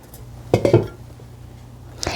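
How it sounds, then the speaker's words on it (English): Metal lid set onto a cooking pot of goulash on the stove, a brief cluster of clanks and rattles, then quiet before a final light clink. "And then we will put the cover on."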